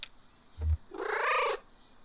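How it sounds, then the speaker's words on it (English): A video-game cat gives one short excited meow, rising and bending in pitch, close and clear after a brief low thump, with no talk around it. "Excited meow"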